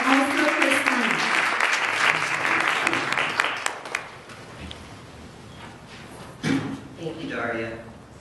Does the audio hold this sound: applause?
yes